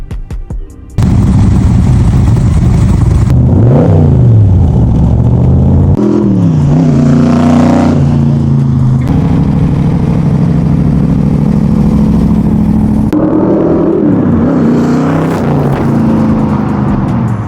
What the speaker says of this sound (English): we're gonna start this up, take it for a test drive